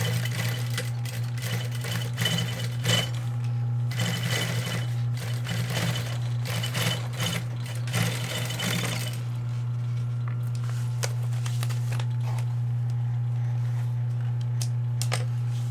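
A sewing machine topstitching the top section of a backpack for reinforcement, running in steady rapid stitching bursts with a constant motor hum underneath, then stopping and leaving a lower whir with scattered clicks.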